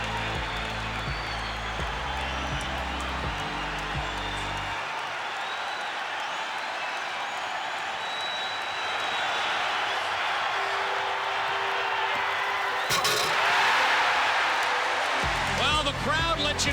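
A large arena crowd roars and cheers for a slam dunk at the 1988 NBA Slam Dunk Contest between Michael Jordan and Dominique Wilkins, a sustained dense wash of noise that swells toward the end.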